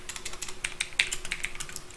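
Rapid, close typing on a computer keyboard while entering Java code, with a run of crisp, uneven key clicks and no voice over them.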